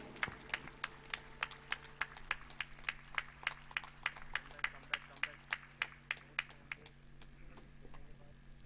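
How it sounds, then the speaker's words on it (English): Audience clapping at a university foundation day ceremony, a steady, evenly spaced run of sharp claps that fades slightly toward the end, with a faint hum beneath. "I request everyone for a huge round of applause,"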